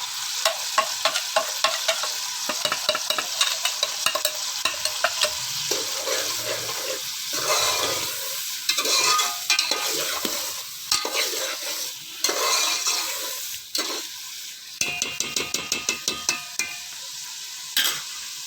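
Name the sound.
tomatoes and green chilies frying in spice masala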